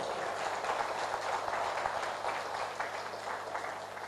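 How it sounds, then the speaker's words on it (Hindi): Steady applause from an audience at a talk, a dense patter of many hands clapping throughout, moderately loud and uninterrupted, with no speech. "उनके लिए एक हाथ ताली हो जाए।"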